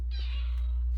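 A single short, plaintive cat meow, close and clear over a low steady hum, lasting under a second.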